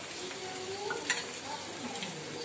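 Cumin seeds and a ground garlic paste sizzle in hot oil in a pan, a steady, close crackling hiss with one small clink partway through, and no one talking.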